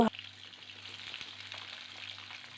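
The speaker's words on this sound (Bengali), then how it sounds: "হাফ মিনিট মতো নাড়াচাড়া করব শিমটাকে।" Flat beans frying in a pan give a soft, even sizzle, opening with a brief sharp clatter and then continuing steadily with faint stirring ticks.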